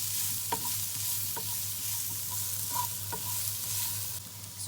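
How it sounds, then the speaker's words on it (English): Meat being stirred and fried in a pan for a Turkish kabab, a steady sizzle with a low hum under it and a few sharp clicks of the utensil against the pan. "So now we're going to add in our meat and we'll just mix that around together"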